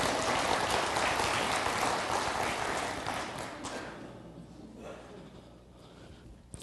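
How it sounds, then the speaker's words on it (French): Applause from a church congregation starts loud and full, then steadily thins out and fades over the last few seconds. "On l'applaudit ensemble."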